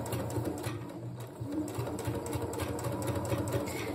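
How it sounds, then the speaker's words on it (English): A sewing machine stitches steadily all the way around a blouse sleeve hem, making a close, continuous rapid whirr with no talking. "I'm just simply going to stitch all the way around."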